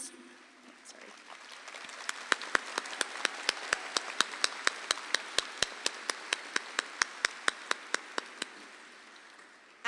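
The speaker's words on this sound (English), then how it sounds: "Seniors, let's give everyone who helped us here a round of applause" A high school graduation crowd gives a round of applause in a large venue, with a steady wash of many hands clapping. A few sharp, rhythmic claps stand out clearly above the crowd, and the applause fades slightly toward the end.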